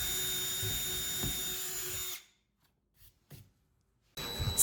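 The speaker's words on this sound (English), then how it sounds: "Step 4, drill wall holes into the base." A power drill whirs steadily for about two seconds boring holes into a wooden easel base, then stops; a few short bursts follow before the drill starts again at the end.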